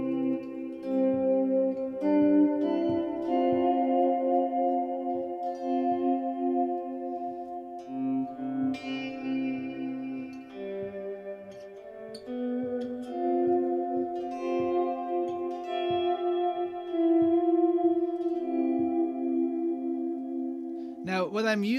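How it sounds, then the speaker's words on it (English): Electric guitar played in slow volume swells through a Strymon Flint reverb, each note blooming in from silence and washing into long, dense, overlapping tails that blur into a sustained ambient pad. "I'm using a Strymon Flint to get that very excessive reverb"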